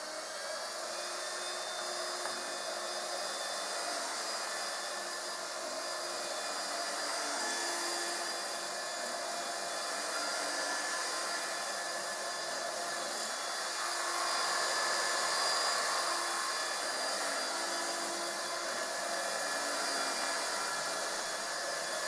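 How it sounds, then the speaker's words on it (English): A Bissell Bolt Pet cordless stick vacuum runs steadily throughout with a high whining motor hum, loud and close, with slight swells in intensity and no talking. "Next is the Bissell Bolt Pet."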